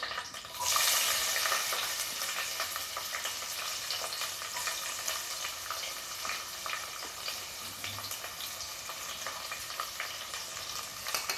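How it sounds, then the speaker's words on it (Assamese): Onions frying and being stirred in a pan for sambar: a steady bright sizzle runs throughout, with scraping stir strokes, close and fairly loud, no voices. "পিঁয়াজ দিছোঁ।"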